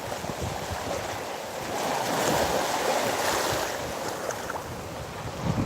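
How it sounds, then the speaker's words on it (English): Ocean waves wash in on a Jekyll Island beach carrying brown plant matter, a continuous hiss of surf with a swelling rush in the middle, mixed with light wind buffeting the microphone and no talking. "Watch as the waves come back in."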